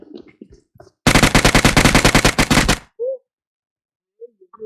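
Rapid automatic gunfire from the PUBG video game rattles out in a loud, steady burst of about twenty shots, followed by a short thud and brief sounds of a game character.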